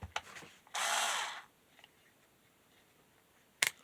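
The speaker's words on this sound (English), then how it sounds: "they're cordless, rechargeable, lithium-ion, low-power electric screwdrivers" A cordless, rechargeable lithium-ion low-power electric screwdriver works on a guitar neck, giving one steady whirring burst of under a second between small handling clicks and a brief sharp tap.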